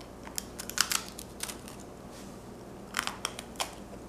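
Crisp crunching bites into a large salted sourdough pretzel, heard as two close clusters of sharp crackles separated by a quiet pause.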